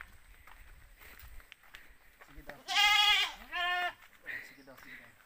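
Goats bleat nearby in a couple of loud, wavering calls, then a fainter one, with quiet rustling and scattered low sounds in between.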